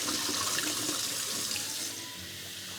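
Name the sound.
water running from tap into kettle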